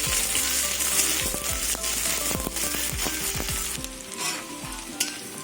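Onion, green chilli and fried garlic sizzle loudly in hot oil, a dense close hiss with spitting crackles and stirring scrapes that eases toward the end, no one speaking.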